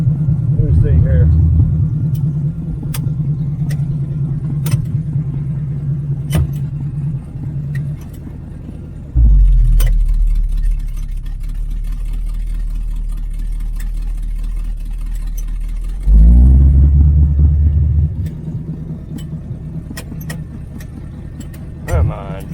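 A 1980 Camaro Z28 V8 with new headers idles and runs nearby, a steady low rumble that shifts pitch twice as it changes load, with brief voices and small clicks over it.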